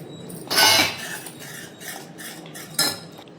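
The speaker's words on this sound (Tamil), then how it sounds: "நான் கைப்படாமல் கிண்டிக்கிட்டே இருக்கிறேன் நான் ஸ்டாப்பாக" Wheat halwa tinted with butterfly pea flowers is stirred nonstop in a pan as ghee is added, giving close metallic scrapes and clinks with two sharper knocks, and no talking.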